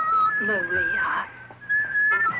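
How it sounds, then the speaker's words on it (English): A young novice in an Austrian convent whistles a tune to herself, clear sustained whistled notes that pause briefly midway and then resume, with a voice faintly overlapping. "I was only whistling to myself"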